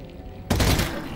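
In the VR game Half-Life: Alyx, gunfire aimed at ceiling barnacles bursts out suddenly after a quiet moment. A loud, dense crack is followed by a decaying rumble.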